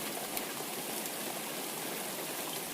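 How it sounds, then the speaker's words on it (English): Gentle rain falling steadily, a dense even patter with scattered faint drops and no voices. "Let the hush of rain settle you"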